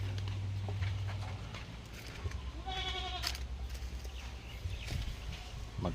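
Goats on a farm give a short bleat among soft hoof clatter and shuffling, fairly faint and close, over a low background rumble.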